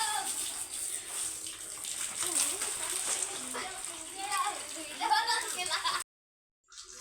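Water pours and splashes steadily for several seconds while people, including a child, talk over it, then cuts off abruptly into silence.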